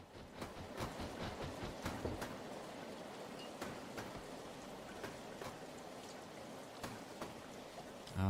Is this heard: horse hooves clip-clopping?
no